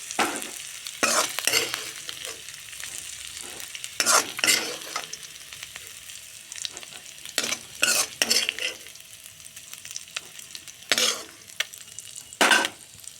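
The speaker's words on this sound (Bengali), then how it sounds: "হালকা করে আলু ভেজে নিলাম, এখন উঠিয়ে নেব।" Potato pieces fry lightly in a pan at close range, a soft sizzle broken by repeated bursts of stirring and spatula scraping that come in irregular clusters.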